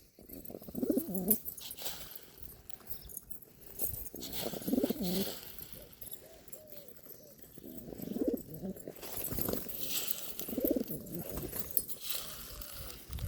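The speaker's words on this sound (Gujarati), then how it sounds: "જો મિત્રો આવ્યા હો કબૂતર" Pigeons coo softly in the background while a man repeatedly calls to them with drawn-out voiced sounds, his calls louder and more prominent than the birds.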